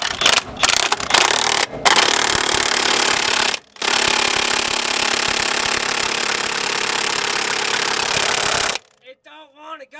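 Impact wrench with a larger socket hammering at a Crown Victoria ball joint, a loud continuous rattling burst running for several seconds with brief breaks, then stopping abruptly as a voice speaks.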